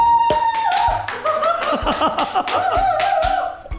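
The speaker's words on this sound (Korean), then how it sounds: "단체로 박수 좀 쳐주세요." A group of people at a drain-cleaning job site claps on request, sharp close hand claps in a loose rhythm mixed with chuckles and voices talking over them.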